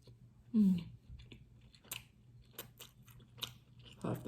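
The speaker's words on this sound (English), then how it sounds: "Here's a taste test." Someone chews a bite of air-fried lunch during a taste test, with soft, close crunching and mouth clicks spread over a few seconds, faint against a quiet background.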